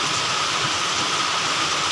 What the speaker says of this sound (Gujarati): એકદમ જોરદાર શરૂઆત થઈ ગઈ છે ચાલો હવે કેવોક વરસે છે તે તમને બતાવશું